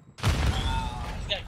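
A short burst of gunfire from Call of Duty: Modern Warfare II: a sudden, loud broadband blast that stays dense and rumbling, with a brief sharper crack near the end.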